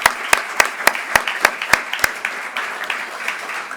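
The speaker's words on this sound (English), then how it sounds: "Let's give all of our nominees a round of applause" Audience applause for award nominees at a college athletics banquet. Loud, evenly spaced claps ring out close by over a softer wash of room clapping, then the sharp claps stop and the general applause trails off.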